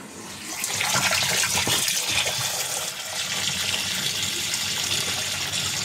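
Water gushes steadily from a washing machine drainer during a repair check, a continuous near, loud splashing rush that swells after the first second and holds without a break.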